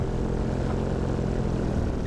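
Steady, loud drone of a paramotor's propeller engine in flight, flying at about 1500 feet over the UK coast, continuous and even throughout with no voices.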